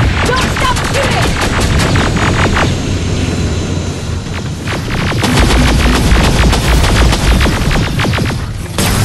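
Battle scene from Terminator Resistance with rapid bursts of gunfire crackling over a dense, roaring din of machines and explosions, loud and continuous throughout, with shouted voices mixed in.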